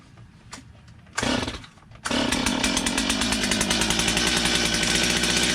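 A flooded chainsaw engine restarts at half choke: a brief rev, a pause, then the saw catches and runs at a loud, steady, buzzing idle close by.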